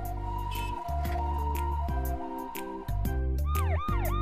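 Ambulance siren at a children's stage play, a loud electronic wail with steady tones at first, then rising-and-falling sweeps toward the end, heard alone with no talk.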